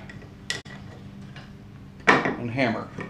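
A hammer striking in a woodworking shop while tool holders are assembled: one sharp knock, then a louder burst of impacts mixed with handling clatter, close by.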